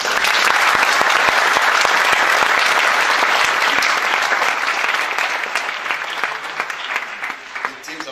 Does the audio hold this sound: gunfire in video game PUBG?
no